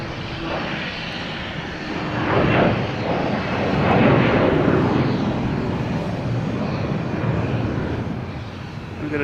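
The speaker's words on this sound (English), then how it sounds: "We got a Delta coming in from Denver and A321 Neo" A Delta Airbus A321neo jet arriving from Denver at Boston Logan Airport gives a steady, loud engine roar that swells through the middle and stays strong to the end, with no voices.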